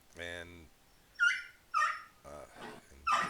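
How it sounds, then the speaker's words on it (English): A dog barks nearby indoors, a series of sharp, tonal yips and barks in irregular bursts with a whining edge, fairly close and moderately loud. "And Millie gets upset and starts barking for some reason."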